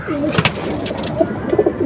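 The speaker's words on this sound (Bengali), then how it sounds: "আরও কয়েকটা কবুতর" Soft, throaty pigeon coos repeat in low rolling phrases, fairly close, with a brief rustle partway through and no talking.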